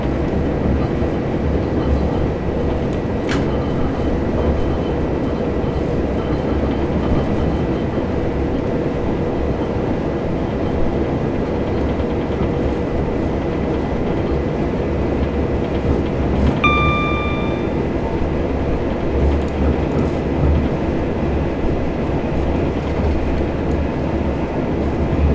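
A train in Train Simulator 2018 rumbles steadily along the rails at speed, a loud continuous roar with a brief horn-like tone partway through and no talking.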